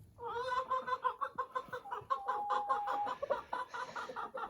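Hens cluck in a steady run of short, rhythmic calls close by, fairly loud, with no talking.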